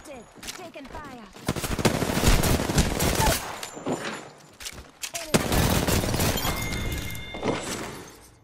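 Bursts of automatic fire from an R-301 rifle in the video game Apex Legends, with loud rapid strings of shots and a pause between them, and brief game voice lines over the firing.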